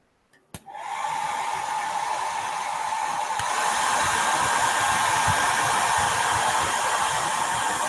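A hair dryer switches on with a click and then blows steadily and loudly, drying watercolor paint on paper, with no talking.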